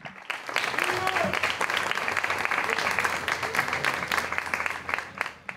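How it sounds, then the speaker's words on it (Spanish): A crowd applauds steadily with dense, continuous clapping that swells and then tapers near the end. "un fuerte aplauso para los ganadores"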